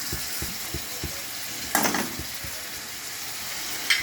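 Ginger garlic paste sautéing in a pan while cooking bitter gourd palya: a steady frying sizzle with soft stirring taps and two brief louder scrapes, close and alone.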